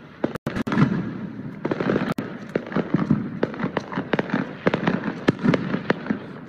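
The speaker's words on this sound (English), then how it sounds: "Fireworks during Las Vegas." Fourth of July fireworks in Las Vegas crackle and pop in irregular bursts over a broad rumbling wash, with a few sharp louder bangs scattered throughout.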